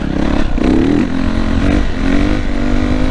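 A Yamaha YZF 450 dirt bike revs in short, loud, close bursts, its engine note climbing and dropping quickly.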